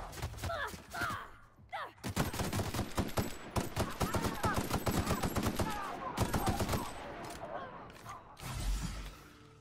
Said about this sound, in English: That machine gun is going to require a lot of ammo.